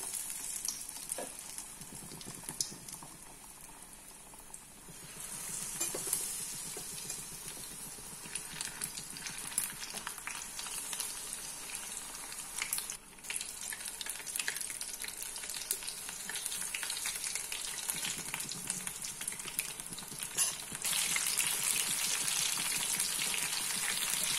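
Battered snake gourd bajji deep-frying in hot oil: a steady, close, dense sizzle and crackle that runs the whole time, swelling louder toward the end with a few brief stirring knocks.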